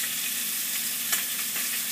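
Bacon fries in a pan with a loud, even, close sizzle, a brief sharper crackle standing out midway, no speech.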